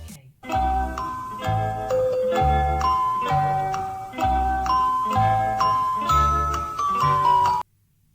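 An EZVIZ EP3x Pro doorbell chime plays a bright, repeating ding-dong melody, its tinkling phrases cycling steadily for about seven seconds at close, clear volume before stopping abruptly.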